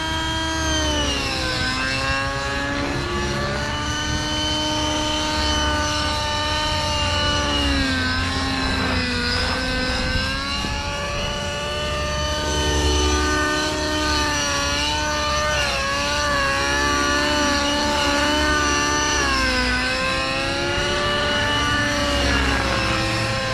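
Align Trex 600 nitro RC helicopter with a new, slightly rich-running engine, giving a loud, continuous high-pitched whine with wavering, rising and falling pitch that holds steady throughout, with no talking.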